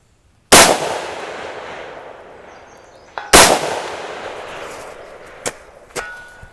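Two loud, sharp 6.5 Grendel rifle shots ring out at outdoor PRS practice, each with a long fading echo across the range, followed by lighter metallic clicks of the bolt.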